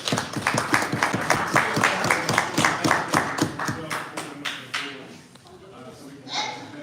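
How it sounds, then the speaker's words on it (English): Applause from a church gathering at a daytime MLK Day event, steady rhythmic clapping for several seconds that thins out and fades toward the end, with faint voices audible beneath. "please give a round of applause for the church"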